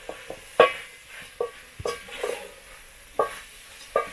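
Chili being stirred into food in an outdoor pot during African village cooking, with a few sharp scrapes and soft sizzling stirs in an otherwise quiet setting.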